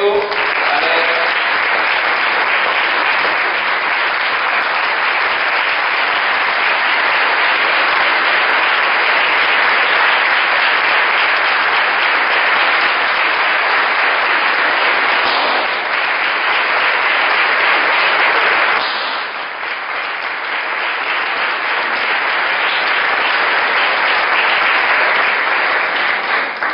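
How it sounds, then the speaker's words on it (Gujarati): Sustained audience applause fills a Swaminarayan temple hall during a guru's initiation-anniversary ceremony as a bouquet is offered, steady and dense for nearly half a minute with only a slight dip late on. "આપણે તાળીઓ વધાવી લઈશું"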